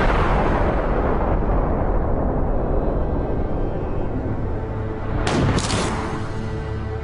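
A steady, loud hissing rush builds for several seconds as a steam cannon fires, then a sharp burst and bang rings out as the ball leaves the barrel before the roar continues.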